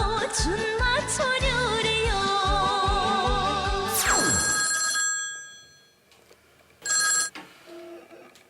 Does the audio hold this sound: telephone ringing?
yes